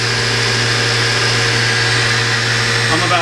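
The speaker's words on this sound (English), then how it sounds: "You can hear that the ball screws are in excellent condition." A Citizen M16 CNC Swiss lathe runs with a steady, even mechanical hum and whir from its ball screws, continuous and fairly quiet at close range.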